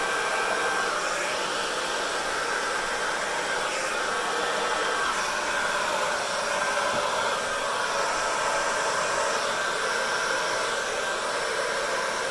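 A hair dryer blows on curly hair, a steady, loud, broadband rushing whoosh with a faint tonal whine, unbroken and close for the whole stretch.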